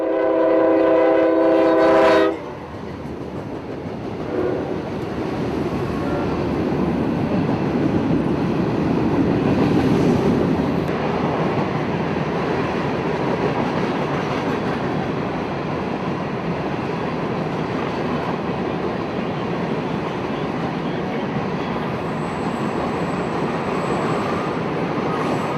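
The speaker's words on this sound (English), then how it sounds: "Around 12:40 came Q609, Waycross to New Orleans mixed freight." Q609, a Waycross to New Orleans mixed freight train, passes close by an overpass: a loud horn blast at the start gives way to a long, steady rumble and clatter of rolling cars.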